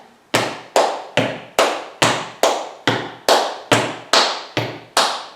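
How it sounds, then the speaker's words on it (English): Eleven sharp hand claps fall at an even pulse, each close and crisp with a short decaying tail, demonstrating a steady rhythm on the beat with no talking. "I'll clap a rhythm"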